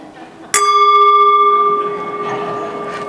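A single small handbell struck once by a panel moderator, giving a sharp clear ding that rings on with steady overtones and slowly decays, alone in a quiet room.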